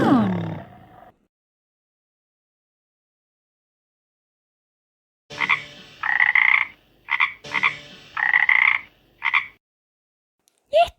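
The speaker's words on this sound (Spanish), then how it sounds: "¿Y este animal? ¿Cuál es? ¡Claro, es la rana!" A frog croaking in loud, deep, rasping bursts, two clustered groups of croaks close up after a long silence, following the tail of a different animal sound at the start.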